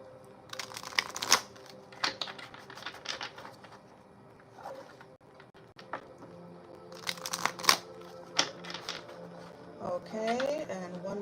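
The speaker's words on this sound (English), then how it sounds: "and one more shuffle" Tarot cards being shuffled in several quick riffling bursts, crisp and close, with pauses between and a soft voice murmuring faintly underneath.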